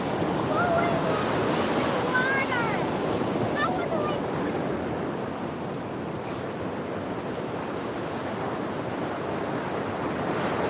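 Ocean surf washes continuously onto a beach while fishing, a steady broad rush with wind noise over the microphone, fairly even in level throughout.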